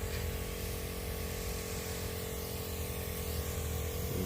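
Sprayer misting a pest-control solution onto an infested plant, a steady continuous hiss with an engine-like hum underneath and no talking.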